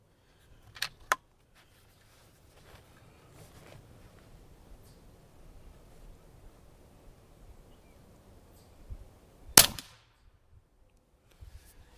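A Umarex Origin .25 caliber PCP air rifle fires sharp, close cracks: two quick shots near the start and one louder shot later, separated by quiet gaps with faint rustling.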